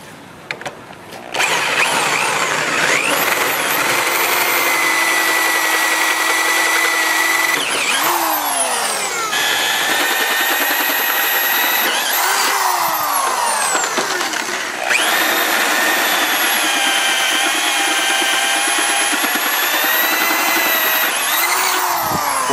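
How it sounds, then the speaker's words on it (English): Power drill boring 3/8 and 5/8 inch axle holes into a steel boat trailer frame, a loud, close, sustained whine that rises and dips in pitch as it cuts and briefly eases off, with no talk. "Once you have your axle holes drilled out"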